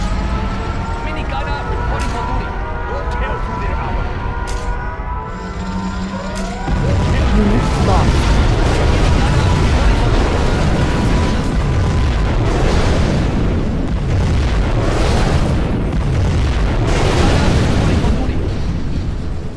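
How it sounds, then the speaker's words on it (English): A nuclear missile explosion in the video game Command & Conquer Generals Zero Hour: a long, heavy roaring blast that swells after a quieter stretch and rumbles on loudly, with game voice lines heard over it. "We have launched our nuclear missile."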